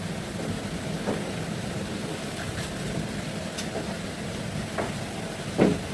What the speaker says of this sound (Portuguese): é o barulho da chuva. Está chovendo bastante aqui.